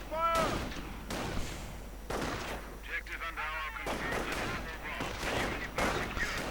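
Gunfire in a strategy war game as Panzergrenadiers engage riflemen: sharp repeated shots and bursts throughout, with a voice talking over parts of the scene.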